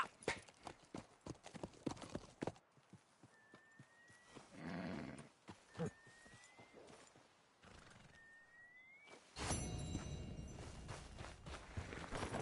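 Horse hooves clip-clop in a video game, alternating with whinnies and a rider's shouts of encouragement, the hoofbeats close and loud against busy game ambience and rising to a denser, louder gallop near the end.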